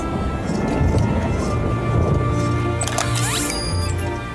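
Thunderstorm with heavy rain in an animated cartoon: a dense, loud wash of rain with low rumbling thunder underneath, steady throughout, with a brief swishing sound near the end.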